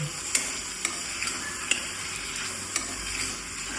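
Green turmeric curry with tomatoes and fresh green peas fries in a pan under a steady soft sizzle, while a spoon stirs and taps the pan in a few distinct clicks, close and fairly quiet.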